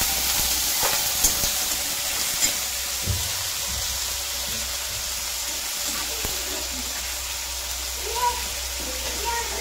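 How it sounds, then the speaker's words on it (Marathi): Potatoes frying in hot oil in a home kitchen, a steady broadband sizzle with occasional soft clinks and scrapes of stirring, close and moderately loud, running continuously without voices. "तेल गरम झाले की आपण त्याच्यात बटाटा टाकणार आहोत। मस्त हलवून घ्यायचा।"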